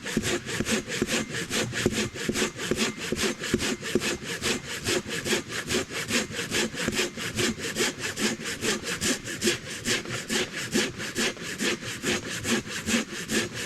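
A Katanaboy 500 pruning saw with large teeth cuts through a tree on a trail, its rasping strokes repeating in a steady, rapid back-and-forth rhythm, close and loud throughout with no talking.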